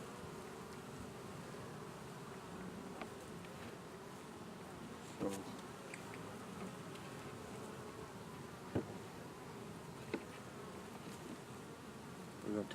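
Honeybees buzzing steadily on a double-deep hive being broken down for winter, a continuous low insect drone with a few small knocks and taps scattered through it.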